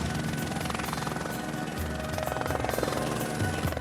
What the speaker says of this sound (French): le blessé sera évacué par l'hélicoptère privé de la station